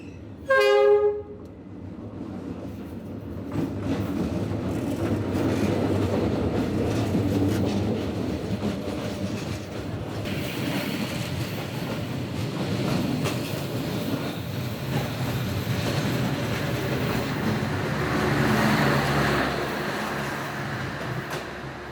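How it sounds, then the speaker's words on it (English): A long train rumbles past nearby along a street in Hanoi, Vietnam, a horn sounding briefly at the start, then steady wheel and carriage noise rolling on for many seconds without voices. "That train was so much longer than I expected it to be."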